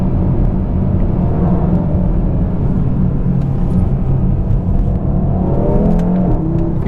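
A 400 hp Audi RS3 drives downhill through a road tunnel in Italy, its engine giving a steady, booming rumble and whir that echoes throughout and rises slightly near the end.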